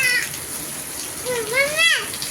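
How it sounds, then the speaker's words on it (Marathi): Water from the year's first heavy rain flows and gushes nearby, a loud steady rush beneath a voice speaking and a higher sliding child-like call. "आमच्याकडे झालेला हा पहिलाच मोठा पाऊस आहे या वर्षीचा बघा चांगला असा चांगलं पाणी वाहिलं"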